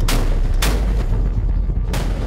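A German Navy ship's deck gun fires live rounds during an exercise in international waters, three sharp, loud blasts spaced unevenly, each with a brief rumbling tail.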